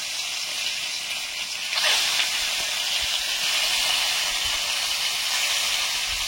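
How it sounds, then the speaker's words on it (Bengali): Rohu fish frying in hot oil, a steady bright hiss and sizzle that swells slightly partway through and then holds evenly, with no talking. "রুই মাছ ভাজছি।"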